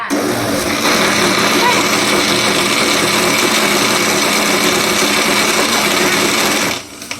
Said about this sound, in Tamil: இஞ்சி, பூண்டு, மிளகாய், பச்சை மிளகாய், கருவேப்பிலை, கொத்தமல்லி, புதினா எல்லாம் போட்டு அரைச்சிருக்கு